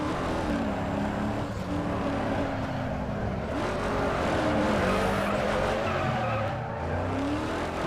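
A car spins and skids in Need for Speed Underground 2, its tires squealing in long wavering whines over a constant revving engine roar that holds loud throughout.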